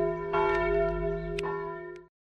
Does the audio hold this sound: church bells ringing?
yes